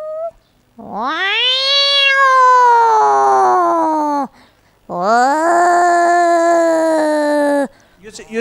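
A woman imitates a cat fight with her voice: two long, loud, whining yowls that rise and waver, each held for a few seconds, with a short gap between them.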